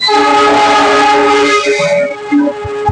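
A passenger train on the Bekasi to Tegal line in Indonesia rumbles close by while its horn sounds loud and sustained, then fades into shorter honks and mechanical clatter.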